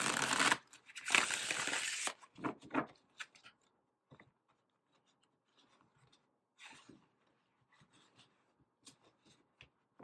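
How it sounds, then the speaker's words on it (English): Crisp riffle of playing cards being shuffled up close, two quick bursts, followed by softer scattered card taps and handling. "I go ahead and shuffle again"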